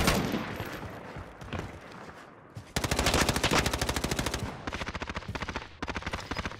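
Rapid bursts of machine-gun fire in Call of Duty Warzone, loud and close, with sustained rattling volleys and short pauses between strings of shots.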